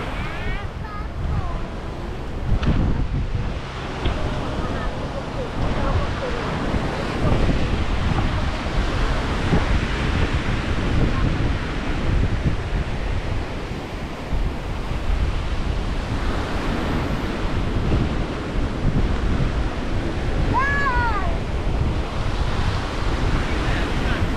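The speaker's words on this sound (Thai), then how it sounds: "แต่ลมเย็นสบายนะ ลมพัดสบายมากนะครับ" Strong wind buffets the microphone on Balae beach in Tak Bai, with steady surf washing in underneath, loud and continuous, a faint bird-like chirp briefly rising near the end.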